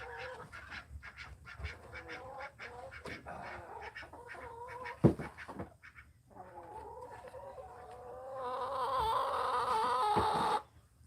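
Farmyard fowl among roosters and chickens squawk and honk, at first in rapid bursts of calls, then in a louder, sustained run of harsh honking near the end, with a sharp thump midway.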